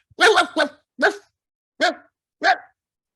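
A storyteller's voice imitates a tired, annoying dog barking, giving five short, sharp yaps: two quick ones close together, then three spaced out with pauses, loud and near against silence.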